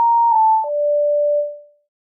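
A music track from the Chaotic card game plays as a short, pure electronic tone sequence: a steady higher note, then a brief step down to a lower sustained note that fades out, with no talking.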